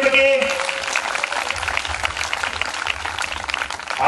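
Audience clapping at a Telugu Catholic church renewal gathering, a dense steady patter of many hands close by for a few seconds.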